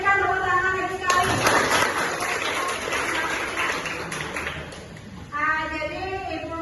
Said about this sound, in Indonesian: ayo berikan tepuk tangan lagi sekali